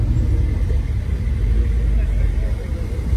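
A Ferrari sits running close by, its engine giving a steady, deep low rumble that stays even throughout, with indistinct voices in the background.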